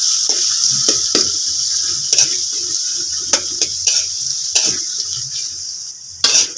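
Chopped onion frying in hot oil gives a constant close sizzle, broken by repeated clinks and scrapes of a spoon stirring against the pan.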